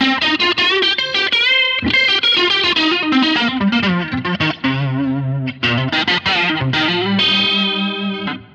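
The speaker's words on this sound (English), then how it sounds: "if I take this with that chorus on and switch my Variax over to like a Les Paul setting" Loud electric guitar strumming chords through a Line 6 Helix, with a Variax set to a Les Paul model and a shimmering chorus effect, slightly gritty, thick tone, steady and close with no voices.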